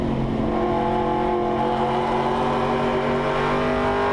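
A historic touring race car engine drones steadily with layered harmonic tones on a hill climb at Bathurst, the throttle feathered, easing and holding rather than revving hard, loud and close throughout.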